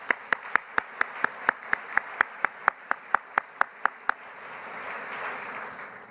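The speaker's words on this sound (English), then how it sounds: "deserves a huge round of applause for doing that" At an awards luncheon, evenly spaced sharp claps ring out about eighteen times in a steady beat, then stop as a soft swell of crowd noise rises.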